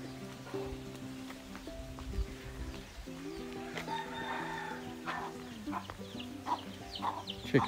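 Chickens cluck and call beside a house with a built-on coop in a Hmong hill tribe village on Doi Pui near Chiang Mai, heard over a steady hum of outdoor village noise.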